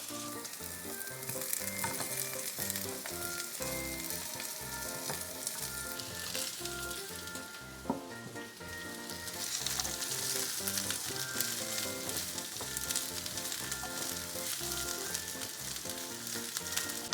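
Marinated chicken pieces fry in a pan for Chinese-style lemon chicken, a dense continuous sizzle with occasional stirring, heard fairly softly over a background of music.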